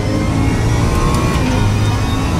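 Loud, sustained engine note of an Audi R8 LMS GT3 Evo race car in the RaceRoom sim at Brands Hatch, a dense close mechanical drone with slight rises in pitch and no voices.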